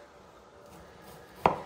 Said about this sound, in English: Just trimming off the ends.